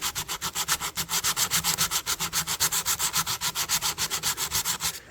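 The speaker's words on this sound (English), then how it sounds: "We're just going to do some rough sanding here and get rid of a lot of this." Rough sanding of a rusted, dented pocket knife with 400 grit sandpaper, a fast steady back-and-forth scraping rhythm of about eight strokes per second, close and continuous, with no talking.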